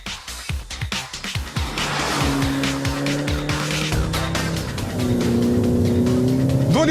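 A 2014 Mini Cooper S with a two-litre turbocharged four-cylinder engine, heard loud and steady as it accelerates, engine note rising in pitch through the gears with a brief squeal of tyres near the start.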